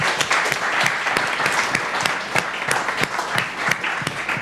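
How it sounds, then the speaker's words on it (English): An audience at a university holographic-project presentation gives a round of applause for the students, steady close clapping with distinct hand claps over a constant room wash. "We should give them a round of applause."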